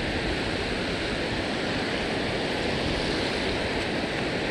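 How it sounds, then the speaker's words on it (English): Waves roll in on the Gulf of Mexico shore near Houston, making a steady, dense wash of surf that fills the whole stretch without a break and with no voices. "I like the waves coming in"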